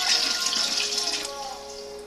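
Hot water pours briefly and steadily to top off jars of pinto beans for canning, a close, bright splashing stream that fades slightly toward the end.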